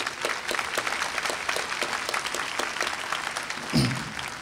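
Applause from a university graduation ceremony audience for graduates from a list of states: steady, crackling clapping from a large crowd with one louder burst near the end.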